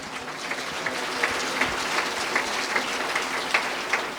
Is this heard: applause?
yes